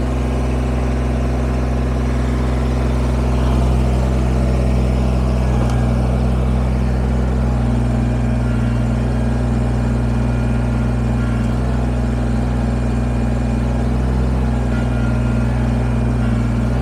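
A Kubota BX23S compact tractor engine runs steadily nearby while moving logs, a constant heavy rumble with slight variations in load throughout, no one speaking.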